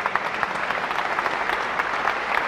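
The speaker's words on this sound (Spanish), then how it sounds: "La gente aplaude la recuperación de Gómez Aguilera." A boxing crowd applauds after a knockout as the fighter Gómez Aguilera recovers, a steady patter of many hands clapping at moderate volume for a couple of seconds, with faint crowd murmur beneath.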